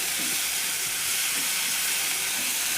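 Grated radish stirred into a hot tempering in a pan for a North Karnataka mulangi palya, giving a steady, close, loud sizzling hiss that runs unbroken throughout.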